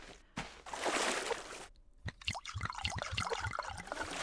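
A character collects water in the survival game Subsistence: a rushing trickle of water is followed by a run of small clicks and splashy taps, all fairly quiet.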